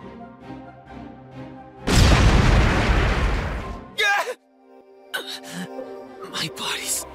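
Fire magic crystals explode in a loud, close blast that roars for about two seconds as a dense wall of noise, then cuts off, followed by short strained vocal sounds and breaths.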